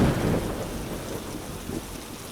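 Steady rain and thunder meant for sleep: dense rain hiss over a low rumble of thunder that is strongest at the start and then eases into a soft continuous drizzle.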